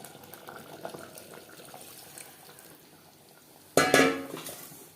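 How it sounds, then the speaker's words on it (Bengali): Water goes into a pot of well-browned mutton for biryani: quiet kitchen clatter, then a sudden loud metallic clank and gushing splash near the end, fading briefly afterward. "এই পর্যায়ে দিয়ে দেবো জল।"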